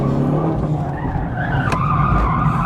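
A Hyundai i30N's tyres skid loudly and continuously through a handbrake turn at a motorkhana on Queensland Raceway, with engine roar blended into the sustained scrubbing squeal from start to finish.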